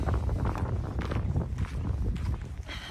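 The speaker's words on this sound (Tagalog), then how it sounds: "Napakalakas ng hangin." Strong wind buffets the microphone in heavy, rumbling gusts, loud low roaring with irregular bursts throughout.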